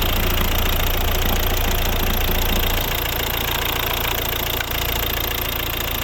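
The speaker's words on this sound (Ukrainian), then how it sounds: "Класно працює двигун насправді." The 1.6-litre D2 diesel engine of a 2012 Volvo Ocean Race car idles close by with a steady knocking clatter and even vibration, unbroken and fairly loud.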